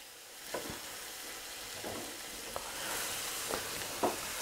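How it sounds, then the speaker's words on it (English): Tomato, garlic and onion sauté in a pan with a soft steady sizzle, broken by a few scraping stirs of a utensil against the pan. "we already have the tomato, the garlic, the onion sauteing"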